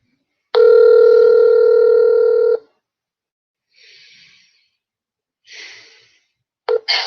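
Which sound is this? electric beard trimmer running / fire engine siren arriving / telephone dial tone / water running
telephone dial tone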